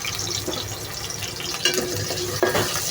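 Onions and tomatoes frying together in oil in a pan, a steady close sizzle with scraping stirs and a couple of sharper clatters near the end, no voices.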